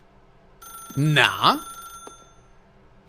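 A telephone in The Stanley Parable video game gives a short electronic ring under a single spoken word, followed by a faint click.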